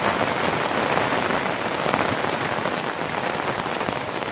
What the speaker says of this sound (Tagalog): Nag-timing, samot katusog ang ulan.